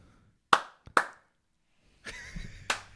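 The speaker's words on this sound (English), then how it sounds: "Just clap your hands." Several hand claps in a quiet room: two sharp, close claps about half a second apart, a pause, then a muffled rustle and one more crisp clap.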